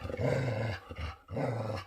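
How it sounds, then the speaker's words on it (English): A dog growls low and rumbling in two long drawn-out bursts with a short pause between, close and fairly loud, with no talking. "Quit barking."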